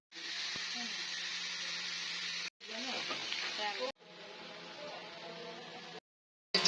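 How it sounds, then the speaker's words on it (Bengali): Chicken lightly frying in a pan gives off a steady, close sizzle that runs in several short takes separated by abrupt cuts and brief silences. "চিকেন লাইট ফ্রাই করে ফেলছি"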